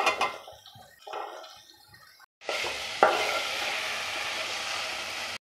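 Vegetables frying in a pan for a breakfast vegetable rice, a loud steady sizzle with stirring and scraping, after a few seconds of quieter kitchen sounds and a short silence.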